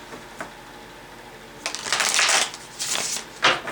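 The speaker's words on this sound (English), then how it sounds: "One more shuffle, please." Tarot cards riffled and shuffled in several quick bursts, close by, with brief pauses between the flurries of papery flicking.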